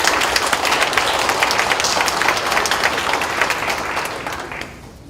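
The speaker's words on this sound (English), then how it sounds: "please give them a round of applause" An audience at a school board meeting applauds steadily, a dense wash of clapping that holds strong and then fades out near the end.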